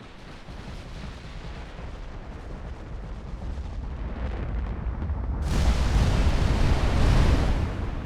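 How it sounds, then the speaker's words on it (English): Battleship secondary guns firing in a naval battle in Ultimate Admiral Dreadnoughts: a dense, continuous rumble of overlapping booms and blasts, loud and sustained, growing heavier with a bright burst of heavy fire toward the end. "And the secondary guns on the battleships, of course."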